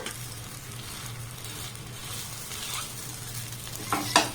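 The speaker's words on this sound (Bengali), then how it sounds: "এইভাবে কিন্তু আমি সবগুলোকে ভেজে নেব" Suji and ripe mango batter fries in a pan over low gas flame, giving a soft, steady sizzle with a faint stir and a brief utensil scrape near the end, no talking.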